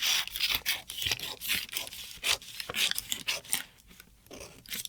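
Scissors snip through polka-dot dress fabric along marked pattern lines for an eight-panel dress, a steady run of crisp, close cutting strokes and rasping blade sounds with no talking.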